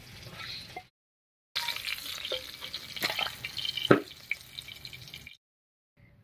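Hot mustard oil left from frying koi fish sizzles in a pan with a continuous close hiss and scattered pops and crackles, broken by short silent gaps.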